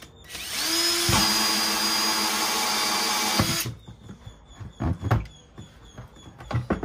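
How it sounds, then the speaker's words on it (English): A power drill whirs steadily for about three seconds with a high whine, drilling holes in plastic for a pond filter, then cuts off, followed by scattered handling clicks and knocks. "So I'm going to go ahead and get these drilled out."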